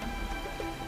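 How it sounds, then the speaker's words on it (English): Steady rain falling in the video game Genshin Impact, a dense, even hiss of drops with no gaps, heard alone without voices. "Don't stay out in the rain for too long."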